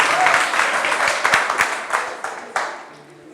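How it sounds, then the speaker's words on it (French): An audience in a hall claps, scattered sharp hand claps over a busy wash that fades steadily toward the end as the applause dies down. "Très bien, on peut les applaudir ici, de ce côté-là."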